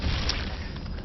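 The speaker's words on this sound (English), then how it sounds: "Photon cannons for the win" Photon cannons firing in a StarCraft match, a dense, steady barrage of booming energy blasts filling the whole second with constant rumbling impacts.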